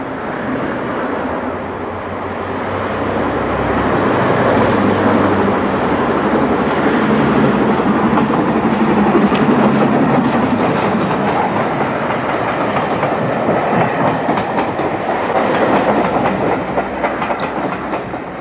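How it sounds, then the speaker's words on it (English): An LMS steam locomotive, Colipur, in 1930s maroon livery, runs on the preserved Great Central Railway, a loud, continuous rumble of wheels and carriages with rhythmic clatter, close by and swelling as it passes. "The leading engine of the pair we saw earlier was Colipur, which is painted in the original LMS maroon livery of the 1930s"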